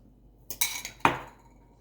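A utensil clinks and scrapes against a bowl while pancake batter is mixed, a few sharp, close metallic knocks and taps in quick succession, the last one ringing briefly, with no talking.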